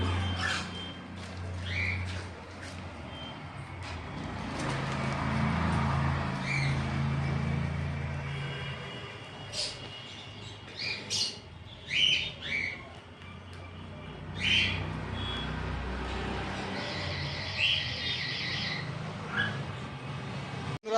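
Pet birds, cockatiels among them, at a bird seller's: scattered sharp squawks and chirps, some near and some farther off, over a low background hum.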